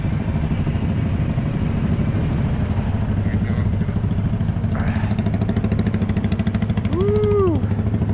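Road traffic heard from a bicycle on a morning ride, with a steady loud rumble of nearby motorcycle and car engines throughout and a brief horn-like tone near the end.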